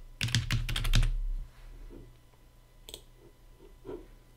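A password typed on a computer keyboard, a quick burst of close clicky keystrokes followed by a few sparse, softer taps.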